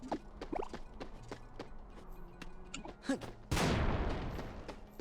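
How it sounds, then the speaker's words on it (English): An explosion in Kingdom Hearts Re:Chain of Memories bursts loudly midway through and fades over the following seconds, after a run of sharp in-game hits and effects. "Explosion."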